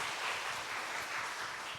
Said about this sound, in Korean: 한 번 더 우리 격려의 박수 보내주세요